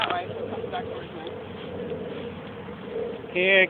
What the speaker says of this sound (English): This looks like a pigeon on my tree.